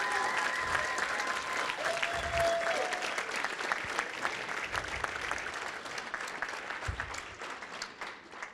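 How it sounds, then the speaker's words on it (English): Audience applause at a live church-style gathering, steady clapping from a full room lasting throughout without a break, moderately loud and even. "So why don't you give her a round of applause?"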